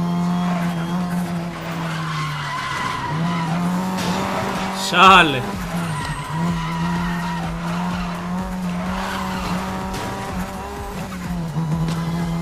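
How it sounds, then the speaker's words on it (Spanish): Car in Need for Speed Most Wanted sliding under the handbrake, sustained engine drone with a loud tire squeal midway, while someone speaks briefly. "le aprieto el freno de mano, loco, se me descontrola el carro"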